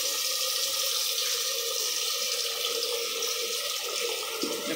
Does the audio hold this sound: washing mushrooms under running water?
yes